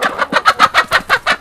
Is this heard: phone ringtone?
no